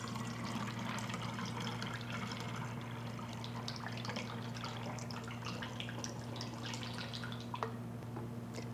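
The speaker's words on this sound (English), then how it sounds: "What I want to do is to put some in this fancy jar that I have already labeled fallen apple vinegar." Homemade fallen apple vinegar poured into a glass jar, a quiet, steady trickle and splatter of liquid over a low background hum, continuous for several seconds with no talk.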